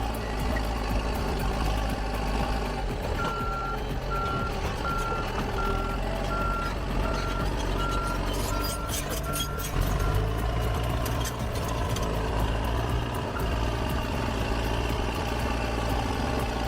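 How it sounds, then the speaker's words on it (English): A bulldozer works loose dirt with its tracks, ripper shanks and front blade. A heavy diesel rumble runs throughout, and a steady train of reversing beeps sounds for several seconds over the engine noise. "Tracks biting hard into loose dirt, ripper shanks locking it down, and the blade up front balancing every inch of movement."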